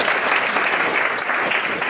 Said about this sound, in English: please clap for us once again